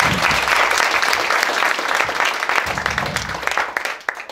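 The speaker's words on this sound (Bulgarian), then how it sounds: "Аплодисменти." Audience at a health session for software engineers breaks into loud, dense applause that holds steady, then tapers off into scattered claps near the end, with faint voices underneath.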